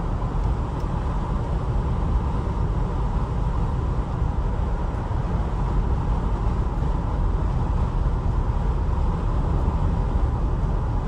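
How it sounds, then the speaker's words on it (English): Steady broadband wind and road rush inside a classic Mercedes convertible with a soft top while driving, a continuous even roar with low rumble and no talk. "A little bit of wind noise through the convertible, soft top, which is normal."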